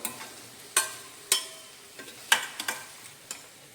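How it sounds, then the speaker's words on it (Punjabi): Masala being stirred through okra in a pan, a few sharp scraping clicks of a spoon against the metal spaced irregularly over a faint background, with no talk. "ਭਿੰਡੀ ਦੇ ਵਿੱਚ ਅੱਛੀ ਤਰ੍ਹਾਂ ਫਿਰ ਮਿਕਸ ਕਰ ਲਓ"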